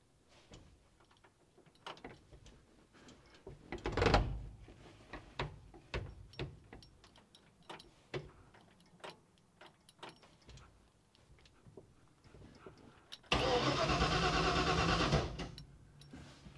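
A 1959 Ford F100 engine being cranked: irregular mechanical clicks and clunks with a brief louder grinding burst, then a steady whirring crank of a couple of seconds near the end, close by.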